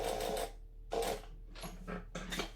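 A sewing machine back stitching fabric for a heart-shaped eyeglasses case runs in four short whirring bursts separated by brief pauses, close and fairly quiet over a low steady hum.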